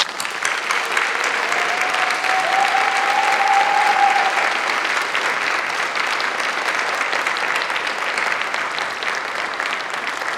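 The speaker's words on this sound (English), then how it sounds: "we give them a lot of applause too" Sustained applause from a congress audience, steady dense clapping filling the room for about ten seconds without a break, fairly loud and even throughout.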